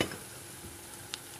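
Fried eggs drop into a hot pan for egg curry, giving a soft, close sizzle with a light clack or two as they settle, continuing as a faint steady fry.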